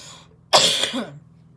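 A single sharp cough followed by a short throat clear, close and fairly loud, with near silence before and after.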